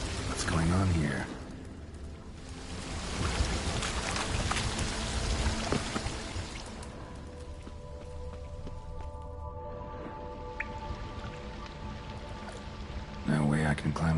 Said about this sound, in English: A waterfall flowing upwards.